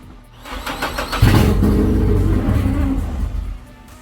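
An engine fitted with an Xcessive intake manifold cranks briefly, catches and settles into a loud, steady idle before cutting off.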